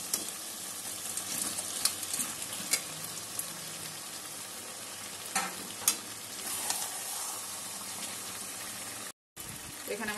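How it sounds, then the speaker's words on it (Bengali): Chicken pieces for chili chicken fry in a pan with a steady, close sizzle as they are stirred, with scraping clinks of a spoon against the pan and a brief drop-out near the end. "চিকেনগুলো দিয়ে একটু কষাবো।"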